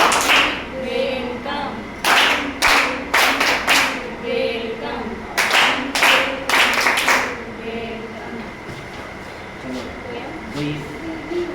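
Young children in a nursery class practise a welcome clap, striking sharp, loud rhythmic bursts of quick claps in short groups. Pauses separate the groups, and a teacher's voice and quieter chatter continue afterward.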